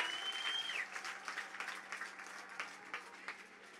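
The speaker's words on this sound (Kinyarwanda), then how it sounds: "twongera tumukomera amashyi" A church congregation breaks into applause during a sermon, a soft, distant patter of many hands clapping that thins out over a few seconds.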